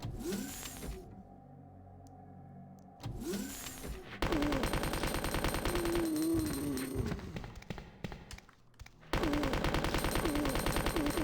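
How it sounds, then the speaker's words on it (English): Magnum and pistol fire in the 1998 Resident Evil 2 game, rapid rhythmic bursts of loud gunshots in several stretches with quieter gaps of game ambience between them. "the shells when you shoot the Magnum and the pistol, the shells make a noise"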